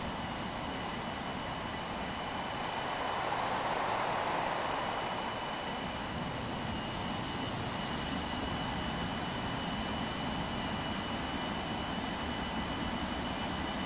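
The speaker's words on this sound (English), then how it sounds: "I love the way these engines sound." Jet engines of a FlyJSim 727 in the X-Plane 11 flight simulator give a steady, loud whine and broadband roar that holds constant throughout, with no talking.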